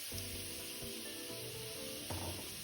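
Water poured into a hot pan of braising Hokkien pork trotters sizzles steadily at a soft level, with a few low thumps and a brief surge of bubbling toward the end; nobody speaks.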